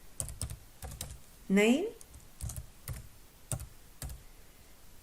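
Clicks of keys on a computer keyboard, a few short taps spaced out in an uneven rhythm, close and fairly quiet, with a brief spoken word in the middle.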